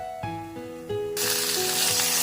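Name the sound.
chopped tomato frying with lentil dumplings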